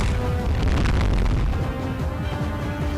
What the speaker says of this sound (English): I'm going to go with a dimensional flashbang here.